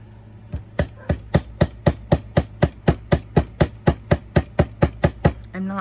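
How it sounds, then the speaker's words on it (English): A small hammer taps repeatedly on the stone setting of a handmade sterling silver twist wire ring, about twenty quick, evenly spaced metallic ticks at close range over a low steady hum, with no voices. "I'm not hitting hard, I'm just tapping it."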